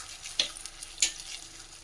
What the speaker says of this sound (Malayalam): നമ്മുടെ ബജിമുളക് എല്ലാ ഭാഗവും നല്ലതുപോലെ ഫ്രൈ ആയിട്ടുണ്ട്